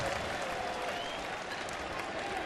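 Baseball stadium crowd at a Cleveland at Toronto game applauding and cheering in a steady, broad wash of clapping, continuous for a couple of seconds with no break.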